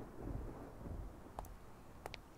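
Steady rain in the video game Yakuza 4 Remastered, a soft continuous hiss with low rumbling texture throughout, broken by a few faint brief clicks near the end.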